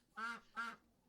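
A duck on canal water beside narrowboat moorings gives two short nasal quacks in quick succession, fairly faint against a quiet outdoor background.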